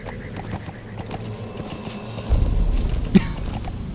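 A horse in Metal Gear Solid V trots with soft, steady hoofbeats, then a louder surge of movement and a short whinny cut through, all fairly close with no talk.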